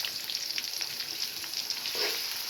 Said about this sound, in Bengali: পেঁয়াজ কুচি একটু ভেজে নেব।